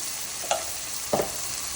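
Chili powder and turmeric frying in hot oil with split cashews: a steady close sizzle, with two brief scraping stirs of a spoon against the pan.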